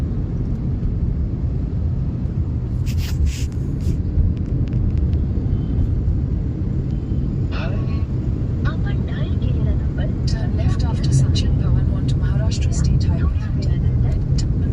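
Steady low engine rumble fills an air-conditioned bus interior throughout, with faint rattles and brief higher-pitched noises near the start and toward the end.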